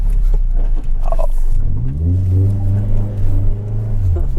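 A 2004 Toyota Celica GT accelerates loudly from close by, its engine note climbing steadily in pitch through the gears as the car drives, with a rumbling low end underneath.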